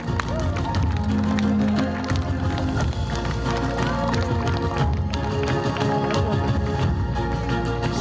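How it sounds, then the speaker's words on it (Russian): Applause at an award ceremony for national three-event sports winners (Bабжын наадан), with dense steady clapping sustained over music and crowd noise throughout. "Ваши бурные аплодисменты."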